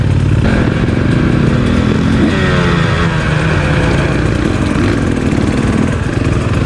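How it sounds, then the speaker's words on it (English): A motocross bike climbs uphill on an enduro track, the engine loud and close with a rising, strained drone and shifting revs through the climb. "Up it goes with a motocross bike."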